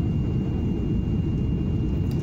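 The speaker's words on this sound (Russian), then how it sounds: "Самолет снижается очень плавно, незаметно, очень комфортно." Steady, loud low-frequency roar fills the cabin of a TUI fly airliner descending toward Brussels, an unbroken engine and airflow drone with no voices.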